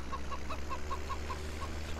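A chicken in the farming video game Farming Simulator 17 clucks in a quick, even series of about eight short, moderately loud clucks over a low steady background hum.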